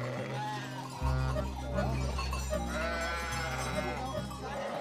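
Sheep bleat repeatedly during a hoof disinfection bath against foot rot, several overlapping calls from a flock with a steady low drone running underneath.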